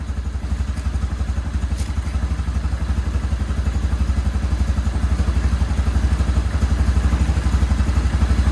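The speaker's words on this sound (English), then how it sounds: "That's choke completely off, so it's running pretty good, I'd say." A 2008 Yamaha Grizzly 350 ATV engine runs with the choke fully off, idling loud and close with a steady, fast, even thumping beat and mechanical clatter throughout.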